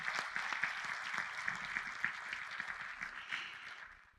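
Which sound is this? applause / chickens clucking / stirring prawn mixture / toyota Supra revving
applause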